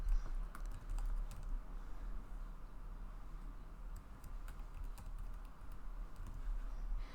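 Rapid clicking of a computer keyboard as a site name is typed into a wedding website builder, a steady stream of light keystrokes heard close over a low background hum, with no talking.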